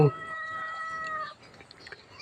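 Temple cats at Wat Pong Chai in Chae Hom, Lampang, Thailand, meow while being fed donated food, a high drawn-out call near the start followed by faint shuffling and soft background sounds.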